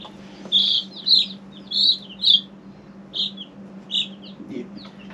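Newly arrived chickens, likely chicks, give a run of short, high chirps in separated bursts over a steady low hum, fairly close and with no talking.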